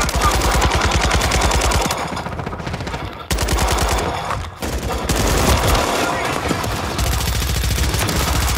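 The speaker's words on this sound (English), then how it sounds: "Taking effective fire." Rapid automatic gunfire from a Call of Duty video game bursts loud and close in long sustained runs, broken by short pauses, with game sound mixed in.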